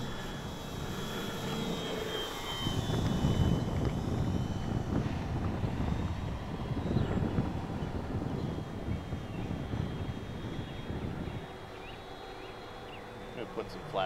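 An EC-1500 radio-controlled airplane flies overhead with a continuous buzzing, whining electric motor that swells louder in the middle and then eases as it slows, while voices are heard faintly.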